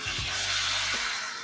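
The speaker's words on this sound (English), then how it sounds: "Now you want to add your beef stock." Beef stock poured into a hot pan holding cooked pork shoulder gives a brief, close hissing sizzle that swells and then fades over a second or so.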